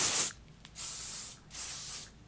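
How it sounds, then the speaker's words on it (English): Beach Waver Great Barrier heat protectant sprayed onto hair in three close, loud hissing bursts, the first short and the next two longer, with brief quiet gaps between. "I'm gonna quickly spray in a little bit of this Beach Waver Great Barrier Heat Protectant"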